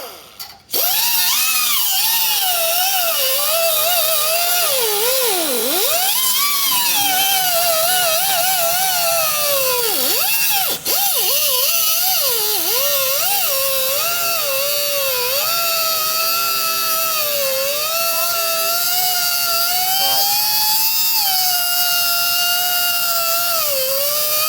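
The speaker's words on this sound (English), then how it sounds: "I'll just go and grab a cut-off wheel." An angle grinder with a cut-off wheel cutting through a part on a Liteweight 1300 caravan under restoration, a loud sustained whine whose pitch sags and recovers as the wheel bites, running close and alone for over twenty seconds.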